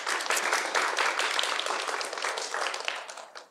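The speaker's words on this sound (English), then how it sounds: "we can give them a big round of applause" An audience in a workshop room gives dense, steady applause after a theatre activity, filling the space evenly before tapering off at the end.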